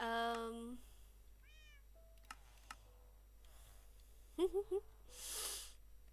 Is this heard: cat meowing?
yes